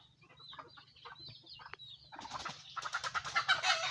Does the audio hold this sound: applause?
no